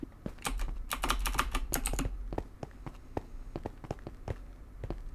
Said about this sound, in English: I need to get a less noisy keyboard